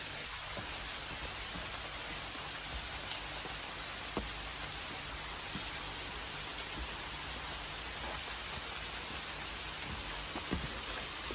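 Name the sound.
rain falling outside the room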